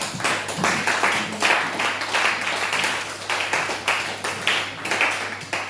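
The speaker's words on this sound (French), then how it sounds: "Acclamons le Seigneur Jésus." A church congregation applauding in praise of the Lord Jesus, steady rhythmic group clapping in regular beats, fairly loud and close, with no clear talk over it.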